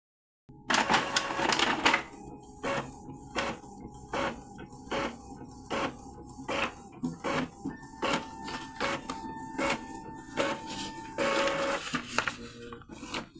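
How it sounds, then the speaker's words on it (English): An Epson EcoTank printer prints a nozzle check page, giving a run of rhythmic mechanical whirs and clicks from the printhead carriage and paper feed, close and clear with no talk. "It takes about 15 seconds before the nozzle check page comes out"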